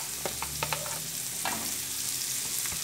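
Onion, pepper and herbs fry with garlic for a sofrito, a steady close sizzle with a few clinks and stirring scrapes across the pan, no voices.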